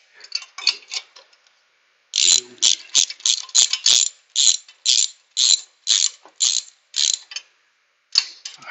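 Ratchet wrench snugging cylinder head bolts in a crisscross pattern, a brief burst of clicks, a pause, then a long run of rapid ratcheting strokes in regular spurts, close and clear.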